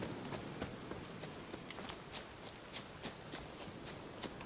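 A horse in a video game gallops away with quick, light rhythmic hoofbeats, faint and steady throughout.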